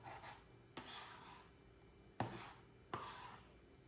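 Cauliflower is chopped into rice on a board, with four sharp close knife strikes spaced through a quiet kitchen, each followed by a short rasping scrape.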